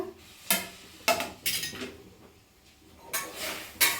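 A spoon scrapes and clinks against a pan while brinjal and tomato chutney is stirred, a handful of sharp metallic knocks spaced irregularly over soft sizzling, close and fairly quiet with no talking.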